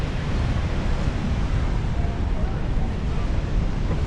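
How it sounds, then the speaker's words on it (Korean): Steady, heavy rushing of water plunging over Niagara Falls, a dense continuous roar with no breaks, close by and loud throughout. "여기서 이렇게 물이 이렇게 회전해서 오면서 여기에 드랍하는 거죠"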